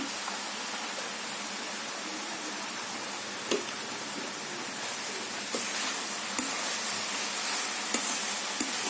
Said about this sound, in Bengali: আমি দিচ্ছি একটু ঘি